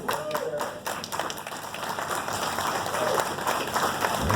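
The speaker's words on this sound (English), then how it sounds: "And please give them a round of applause." Audience applause at a media preview of the 2020 C8 Corvette at Corvettes at Carlisle, a loud sustained crowd clapping that swells toward the end, with voices mixed in.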